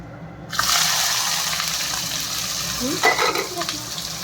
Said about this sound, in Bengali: এই যে পেঁয়াজগুলো দিয়ে ভালো করে পেঁয়াজগুলো লাল লাল করে ভেজে নিই।